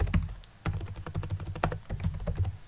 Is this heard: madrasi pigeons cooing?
no